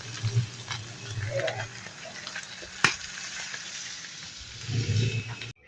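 Garlic sizzles and fries in a pan with a steady hiss, stirred now and then with clattering scrapes, and one sharp knock partway through.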